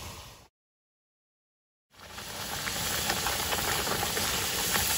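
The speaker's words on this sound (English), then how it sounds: "So puris are fried on high heat" Puris frying on high heat in hot oil, a steady broadband sizzle and bubbling that cuts out briefly then returns louder and fuller, with faint scattered crackles throughout.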